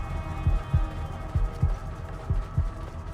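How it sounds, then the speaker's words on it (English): Heartbeat effect in the video game Assassin's Creed Origins: paired low thumps repeating at a steady rhythm, three double beats over a faint hum, with no talking. "Heartbeat sound is a little annoying"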